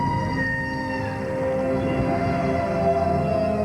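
Humpback whale song underwater: long, eerie tonal moans and sliding whistles sustained over a low rumbling background, fairly loud and continuous with no talking.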